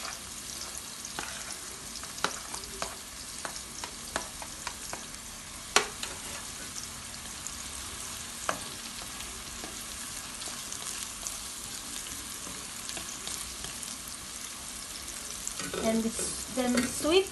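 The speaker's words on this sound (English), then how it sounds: "now we're going to add the scallion" Scallions fry in a hot pan with a steady low sizzle, broken by scattered sharp clicks and scrapes of stirring, the frying growing louder near the end.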